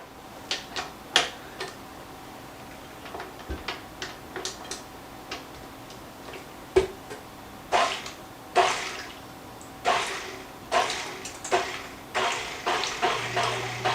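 A spoon stirs mashed sweet potato casserole with syrup in a bowl, producing a steady series of soft wet clicks and knocks that grow denser toward the end, close up with no talk.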